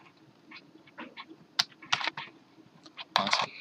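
Keys clack on a computer keyboard in short, irregular bursts, close and fairly soft, with quick clustered taps and a few louder strokes against a quiet room.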